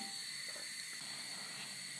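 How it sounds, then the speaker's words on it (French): Butter and water mixture boiling in a pan for choux pastry, heard as a steady, even hiss with faint bubbling underneath, constant throughout. "Vous pouvez voir que mon mélange bout."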